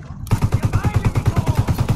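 Automatic gunfire rattles in a steady rapid rhythm in Ghost Recon: Wildlands, a tactical military shooter, starting abruptly after a brief quiet moment and continuing loud and close for the rest of the stretch.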